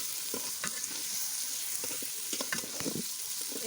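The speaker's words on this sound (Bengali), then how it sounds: "তো আমি আবার নাড়িয়ে নিচ্ছি।" Vegetable curry with garlic and onion being stirred in a hot pan, a steady sizzle of frying under repeated scraping strokes of the spoon, close and fairly quiet.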